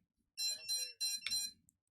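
An ExpressLRS BetaFPV TX Micro transmitter buzzer beeps loudly up close in a few short, shrill bursts, then stops.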